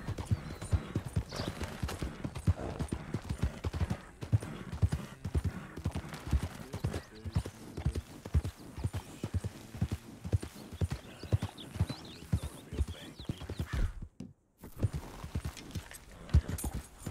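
A horse's hooves clip-clop steadily in the Red Dead Redemption 2 video game, a busy rhythmic stream of hoofbeats at moderate volume, with a possible whinny and a short silent gap near the end.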